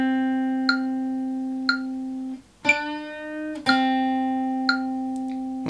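Guitar half step bend repeated over a metronome: a sustained ringing note, briefly muted then re-struck and bent, with crisp steady metronome ticks clicking about once a second, alone without talk.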